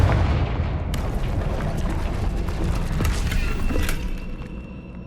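Confringo fire spell explosions in Hogwarts Legacy amid troll-strewn debris, a sustained loud rumbling blast with crackling bursts that rolls on for several seconds before easing off.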